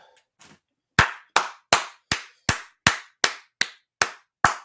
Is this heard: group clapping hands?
yes